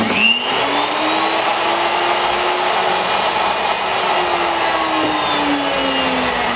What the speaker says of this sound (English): we're going to grab the Dremel, and I put on one of these buffing wheels